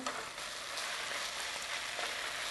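Steady close-up sizzle of spring roll filling with rehydrated shiitake mushrooms being stir-fried in a hot pan, a continuous crackling hiss with faint stirring scrapes and no voices.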